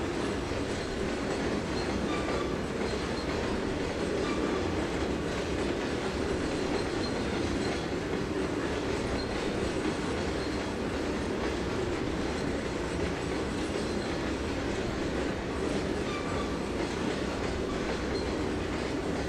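Train cars roll steadily for a long stretch in the video game Trainz 2022, a constant rumbling roar with rhythmic clacking of wheels and occasional metallic squeals.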